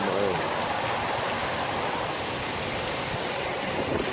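Heavy rain pours down around a bass-fishing outing in Houston, Texas, a steady dense hiss of drops spread evenly across the whole stretch with no pauses, close and fairly loud.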